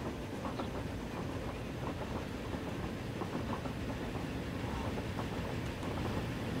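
Several trains of different generations roll along in Transport Fever, a faint, even rumble with soft clickety-clack of wheels on track and no talking.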